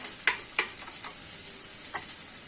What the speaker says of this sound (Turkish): Böyle bol soğanlı patatesini de kavuruyorum.